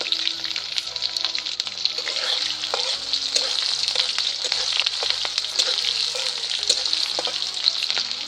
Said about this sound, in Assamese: পিঁয়াজটো ভালদৰে ভাজি লওঁ